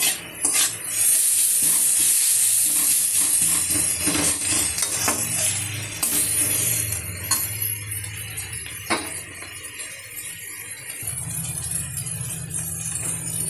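Garlic and ginger paste frying in a little oil in a kadai, a steady loud sizzle with a spoon stirring and scraping the pan, plus occasional metallic clinks; no talking.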